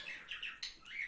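A young pet bird chirps during a feeding of Cerelac baby cereal, giving a run of close, thin, high chirps and squeaky calls in quick succession with no talk.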